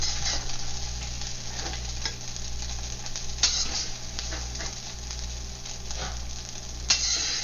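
Spam and garlic fried rice with green peas and onion being stirred in a hot pan, with steady sizzling and frying under repeated scraping and tossing strokes, close and continuous, no talk.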